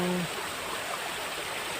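A river flows steadily in a rural provincial setting, a continuous close rushing hiss of moving water with no clear pauses, briefly overlapped by a low hum at the start.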